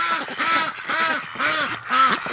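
Several ducks quack together outdoors at a breeding pen, loud and close in repeated bursts of harsh calls with short pauses between them.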